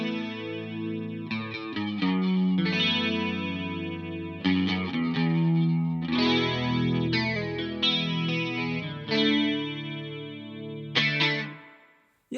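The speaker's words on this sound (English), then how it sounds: "very nice chorus sound" A guitar played through a Laney LFS60 amp with chorus effect gives shimmering, warbling chords and picked notes, rich and sustained, ringing out in phrases before fading to silence, with no talk.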